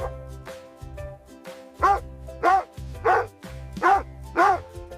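A dog barks about five times in evenly spaced, loud, close barks, with softer yips and a bed of music underneath.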